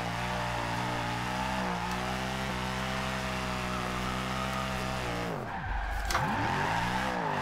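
A Mercedes C63 AMG drifts sideways in Forza Horizon 2 with its rear tyres spinning. A sustained engine drone and tyre squeal hold steady, then the revs dip sharply and climb back near the end.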